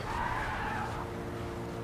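A car drifting in the racing game GRID 2, its tires skidding in a continuous loud squeal over engine roar for about two seconds, close and steady.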